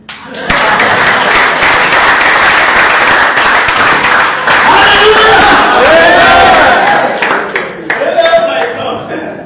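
Loud, sustained clapping and cheering from a crowd at a cryptocurrency launch gathering in Africa, with shouts rising through the applause and a voice cutting in near the end.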